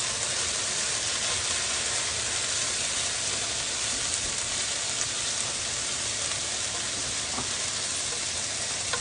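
Shredded potatoes frying in a pan for a frittata, giving a steady close sizzle and crackle that holds without pause throughout.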